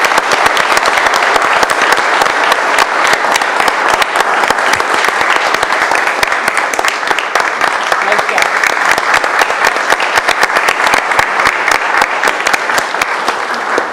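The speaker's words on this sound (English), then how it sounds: "Let's give a big round of applause one more time as we congratulate the awardees and express our gratitude" Loud, sustained applause from a large audience at a city commission meeting, dense clapping filling the room steadily for the full stretch.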